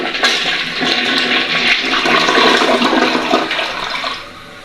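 A newly installed water closet flushes in one loud, close surge of rushing water that swirls for about four seconds, then drops off as the tank drains.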